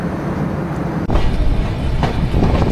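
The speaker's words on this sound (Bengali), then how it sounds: "আমাদের ট্রেন রূপসী বাংলা এক্সপ্রেস কাশিয়ানী জংশন স্টেশনে প্রবেশ করতেছে" The Rupshi Bangla Express rolls into Kashiani Junction station in Bangladesh with a loud, steady rumble of wheels and carriages, heard close from on board without talk.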